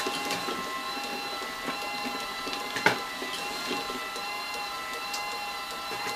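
A ProTech packaging machine runs steadily nearby, a constant mechanical drone with tonal hums and scattered clicks and clacks, including one sharper knock near the middle.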